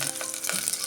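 Onions and chillies fry with mustard seeds in hot oil in a brief burst of close, crackling sizzle with small popping spits and no voices.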